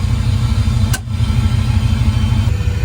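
A turbocharged Ford Coyote V8 in a 1962 Ford F100 on a CVPI chassis rumbles loudly and steadily at a held idle, with one brief dip in the sound and no talking.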